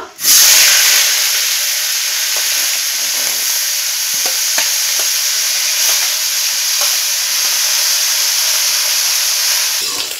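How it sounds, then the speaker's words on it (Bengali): Shrimp fry in hot oil in a wok, giving a loud, steady sizzle and hiss that holds unbroken from start to finish, with faint scraping and crackles scattered through it. "তেলটা গরম হয়ে গেছে, এখন আমি চিংড়ি মাছগুলো ভেজে নেব।"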